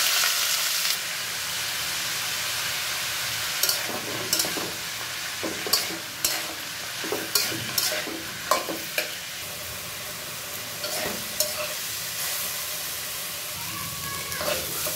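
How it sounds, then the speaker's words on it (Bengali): Onion flowers frying in a pan, a steady close sizzle of oil that runs throughout, broken by repeated scraping and stirring knocks from a utensil. "দেখো বন্ধুরা পেঁয়াজের ফুল ভেজে নিচ্ছি"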